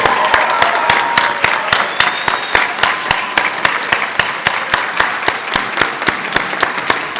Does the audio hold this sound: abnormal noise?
no